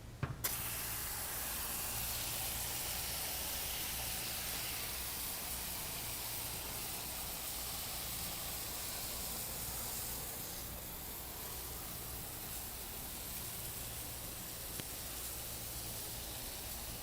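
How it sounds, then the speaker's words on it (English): IK pump sprayer releasing a continuous fine mist at a live detailing event, a steady broadband hiss that runs nearly unchanged for the full length after a brief click at the start, close and moderately loud. "I'm actually going to spray this from start to finish"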